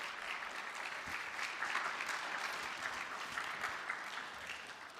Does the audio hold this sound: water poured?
no